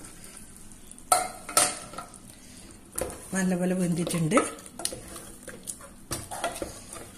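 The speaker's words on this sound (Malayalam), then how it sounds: "തുറന്നു നോക്കാം, ഇളക്കി കൊടുക്കണം." A pot of parboiled-rice meat biryani (irachi chor) is stirred with a spoon, giving scraping clanks and a short sizzling scrape against the metal, with brief talking at the start.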